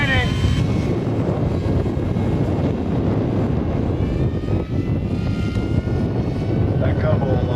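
A yellow Super Cub model airplane comes across the runway to land at an electric flying festival, its motor a steady drone through constant wind buffeting on the microphone, with no clear voices.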